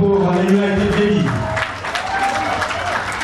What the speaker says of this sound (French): Est-ce qu'on peut applaudir très très fort pour les United Ladies?